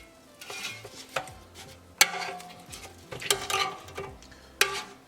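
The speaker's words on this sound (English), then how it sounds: "And now we need to flip these upside down." Frozen Cornish hens are flipped in an air fryer basket with a series of scraping, clattering knocks and light thuds of utensils against metal, close and intermittent, with quiet gaps between handlings.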